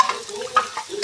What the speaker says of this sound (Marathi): हा साबुदाणा जो आपण भिजवलेला होता, हा साबुदाणा मिक्स करायचा त्याच्यात